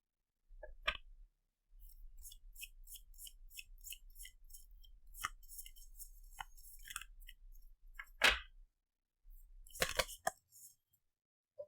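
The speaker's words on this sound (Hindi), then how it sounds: "हम लोग 2 कार्ड्स निकालेंगे" Tarot cards drawn from a deck, heard as quiet crisp clicks, flicks and papery rustles in irregular bursts with short silent gaps.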